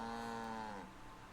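Sacred cow in the video game Age of Empires Online giving a single long, low moo that slides downward in pitch, clear and alone.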